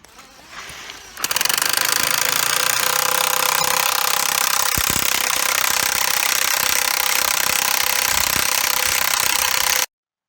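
A battery-powered Makita drill drives an increment borer into a tree trunk to take a tree-ring core, running as a loud, steady mechanical whir and grind for about nine seconds after a short quieter lead-in, then stopping abruptly.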